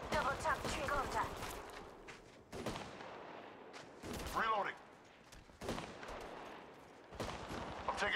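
Rapid bursts of gunfire in the mobile battle royale Apex Legends Mobile, several clusters of sharp shots separated by short pauses, with brief game voice lines mixed in.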